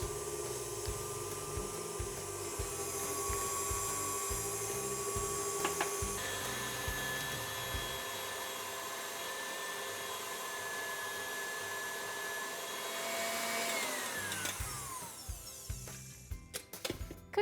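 An electric mixer whipping semifreddo mixture at low speed, a loud steady motor whine with whisk hum, changing pitch as speed shifts near the end before it winds down.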